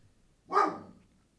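A brown Labrador dog gives a single sharp bark, close by and fairly loud, standing alone against a quiet background.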